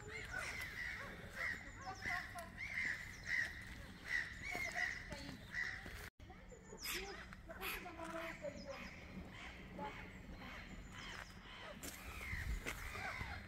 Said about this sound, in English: I do not know what kind of birds you are, but